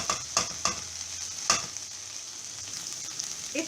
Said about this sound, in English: 6 minutes since I have been frying this okra